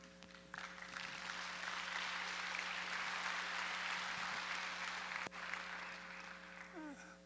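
Applause from an audience at an evening missions rally fills the hall as a steady, faint patter of clapping that continues evenly for several seconds before tapering off.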